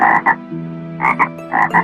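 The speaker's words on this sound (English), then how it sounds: "There were two frogs in the near about garden" Frogs croak loud and close, with three double-pulsed calls repeating at a steady rhythm over a low throaty tone.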